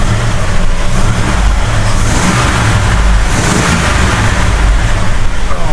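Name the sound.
1969 Road Runner 440 engine revving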